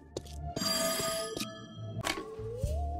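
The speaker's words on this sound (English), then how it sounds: "Pick up the phone, dammit!" A telephone rings in a few separate bursts, loud and close, with other clattering sounds between the rings.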